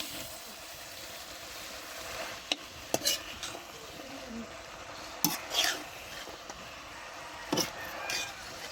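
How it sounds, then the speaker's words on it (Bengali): Malabar spinach cooking with fish and shrimp in a pan, a soft steady sizzle broken by several sharp clinks and scrapes of a utensil stirring against the metal; no speech. "মাছের সাথে সাথে চিংড়ি মাছ দিয়ে তাজা তাজা একবারে পুঁই শাক এটা রান্না করতেছি আমরা"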